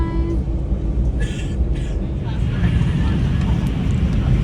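Passenger airplane taking off, its engines building into a loud, steady roar heard from inside the cabin, rising and filling the sound throughout, with people talking over it.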